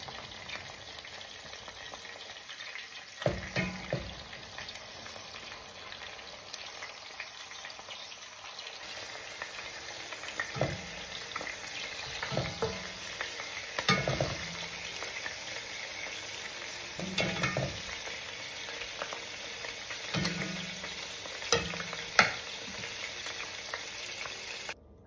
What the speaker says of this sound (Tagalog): First step, iprito po muna ang beef back ribs